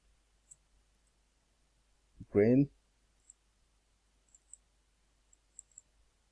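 A computer mouse gives sharp, faint single clicks scattered across a quiet room, with one short burst of speech in the middle.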